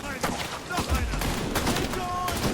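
Several sharp shots ring out in quick succession in the horror video game Amnesia: The Bunker, loud and close, with a voice talking alongside.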